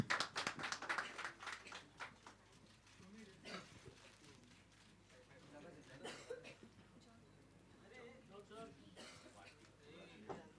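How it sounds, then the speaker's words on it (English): Audience clapping and some chuckles for a contest winner at a Dumdaar Dishoom Challenge event with a celebrity guest, loud at first and then thinning into scattered claps and murmuring voices around talk. "let's give her a round of applause"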